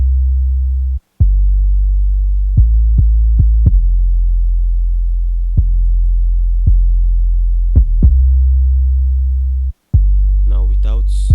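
A deep, sustained 808 bass drone throbs beneath sharp kick drum hits in an FL Studio R&B beat, landing in an uneven pattern, loud and close, with a brief dropout twice.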